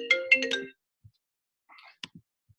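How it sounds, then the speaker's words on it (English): A short melodic phone ringtone from an incoming call during an online class, a few bright chiming notes up close, then silence broken by faint clicks and a brief tone. "Sorry, I got a phone call."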